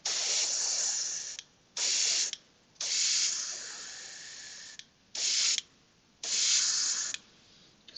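Spray paint from an aerosol can hisses out in five sharp bursts of uneven length, each starting and stopping abruptly with brief silent gaps between, close and fairly loud.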